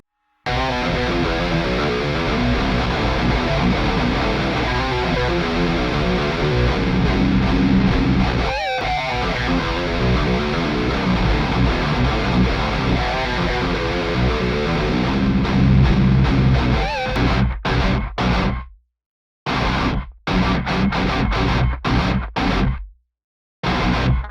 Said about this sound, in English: here's the isolated guitars of that quick little crude demo song